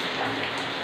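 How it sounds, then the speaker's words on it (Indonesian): Steady rain falls outdoors at a building site with a perspex covering, making a dense, even hiss of drops that is close and constant throughout the short moment. "Ini hujannya lumayan agak terus ya"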